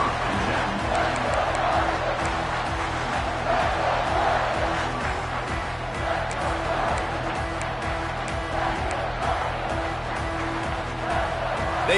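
A football stadium crowd roars after a punt return, a dense, steady wall of cheering that holds throughout without clear breaks.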